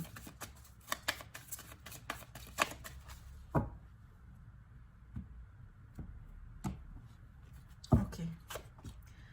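Tarot cards shuffled by hand in a soft series of riffling and tapping bursts, close and quiet, with a few sharper card snaps among them.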